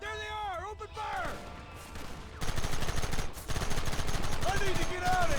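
Heavy gunfire in Red Dead Redemption, a Western shootout in which several guns fire rapid overlapping volleys that grow louder and denser midway, with a voice calling out over the first moments.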